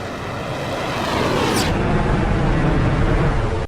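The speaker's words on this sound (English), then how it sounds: "It sounds different. Maybe custom engine sounds?" A loud, steady jet-engine roar and rushing air from an aircraft in the VTOL VR flight game, heard from inside the cockpit, swelling slightly and holding constant before cutting off abruptly.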